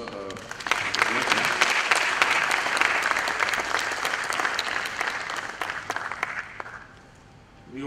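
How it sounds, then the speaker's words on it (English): A seminar audience at the BSE–ICSI National Seminar on the Indian Financial Code gives a big round of applause, full and steady clapping from many hands that tapers off near the end. "May I have the big applause?"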